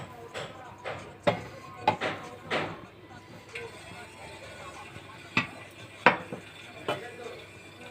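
A metal lid goes onto a pot of simmering fish curry, with a series of sharp, close clanks and knocks spaced irregularly over quiet kitchen background.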